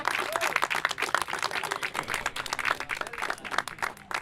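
Studio audience of a French children's television show applauds, a lively, fairly close patter of many hands clapping steadily for several seconds, with faint voices mixed in.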